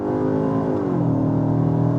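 A 2025 Cupra Terramar with 195 kW launches hard from a standstill in sport mode after brake boosting. The engine note is loud and close, climbing steadily under strong acceleration, and no one speaks.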